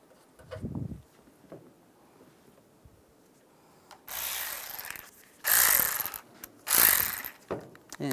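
Ratchet snugging the upper bolts on the bumper molding of a 2007-2013 Chevrolet Silverado, heard as three close bursts of quick clicking with quiet gaps and a soft knock between them.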